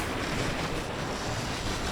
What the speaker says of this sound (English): playable for now because it's a water sound